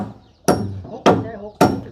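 Wood is hammered while boards are pried and laid in place, three loud, sharp blows spaced about half a second apart, each ringing briefly before fading.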